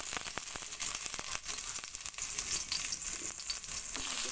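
Sliced ginger frying in a small amount of oil in a pan for salmon sinigang, a steady close crackling sizzle with scattered sharp pops throughout, no voices.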